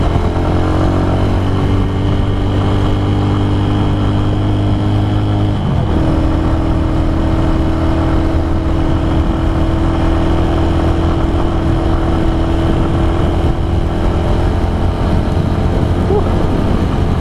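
Honda Tiger 2011 motorcycle engine pulling steadily on an uphill test ride, loud sustained drone with a gear or throttle shift partway through, wind and road noise constant underneath.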